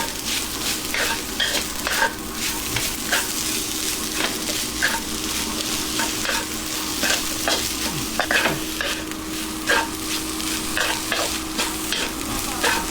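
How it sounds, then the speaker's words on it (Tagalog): Chicken sisig with red and green chilies sizzles in a pan while a utensil stirs it, making rhythmic scraping strokes over a continuous close frying hiss with no voices. "Haluin po natin ulit."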